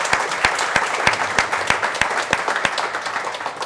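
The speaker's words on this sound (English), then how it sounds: "let's give Johnathan a big round of applause" Applause from an audience after an interview, with a few sharp, distinct claps standing out at a quick, uneven pace over a softer patter of other hands, fairly close and loud, tapering slightly toward the end.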